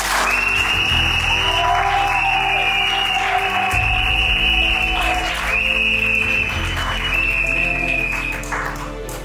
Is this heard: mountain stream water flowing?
no